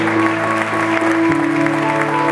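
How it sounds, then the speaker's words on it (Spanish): Congregation at an evangelical church service applauding loudly and steadily, mixed over sustained organ or keyboard chords and a busy room, the clapping continuous throughout. "Aplauda fuerte al Señor."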